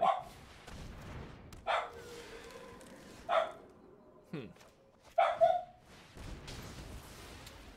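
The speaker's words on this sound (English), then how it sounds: "our dog is going crazy. Somebody is at the door" A dog barks repeatedly at someone at the door in a home, with spaced single barks and a quick pair near the end, moderately loud, while a person murmurs briefly.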